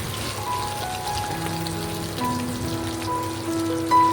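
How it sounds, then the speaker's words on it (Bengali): Egg pieces fry in oil in a wok, giving a steady, close crackling sizzle that holds at an even level throughout. "এবার আমি ডিমটাকে ভালো করে আলতো হাতে নেড়ে চেড়ে নেব।"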